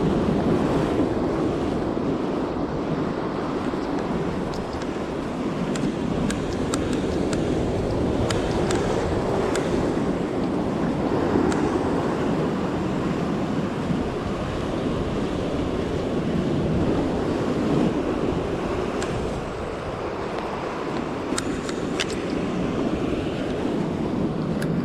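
Incoming tide waves wash and break steadily against rocks on the Cornish coast, a dense continuous roar of surf with wind buffeting the microphone throughout.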